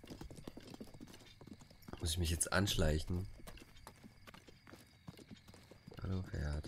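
Horse hooves clip-clop in Zelda: Breath of the Wild, with a possible whinny, under someone speaking German; the hoofbeats grow louder in the middle and return near the end.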